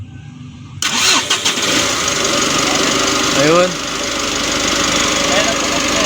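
A Mitsubishi L300 van engine cranks and catches after a quiet moment, then runs loud and rough with a steady noisy idle while people talk nearby.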